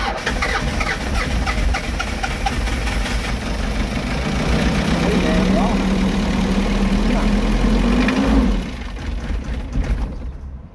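Overheating Toyota KC2700 engine with a leaking cylinder head, idling with a misfire, a steady low rumble with uneven pulses, louder in the middle and briefly rising before easing off; a voice speaks faintly over it.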